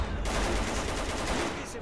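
Dense gunfire in STALKER Call of Pripyat as fighters shoot at a mutant, a continuous rattling barrage of overlapping shots at steady loudness throughout.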